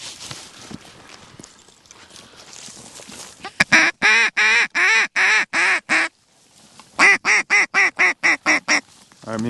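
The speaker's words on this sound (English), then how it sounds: "Ducks coming in front." Ducks quack during a duck hunt in two loud, close bursts of rapid, evenly spaced calls, the first run of about eight and the second of about nine, separated by a short lull and faint rustling.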